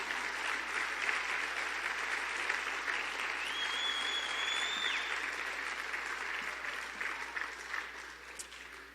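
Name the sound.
audience applause in church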